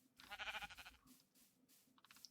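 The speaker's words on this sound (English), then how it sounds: "A lot of gray sheep around in these parts." Sheep in the video game Minecraft bleat in a short, quavering burst, then a fainter second call follows after a pause; soft and quiet overall with no voices.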